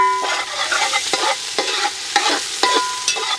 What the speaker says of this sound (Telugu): ముందుగా మూడు చెంచాలు నూనె వేసుకుందామండి సన్నగా కోసి పెట్టుకున్న ఒక ఉల్లిపాయ ముక్కలు వేసేసుకుందాం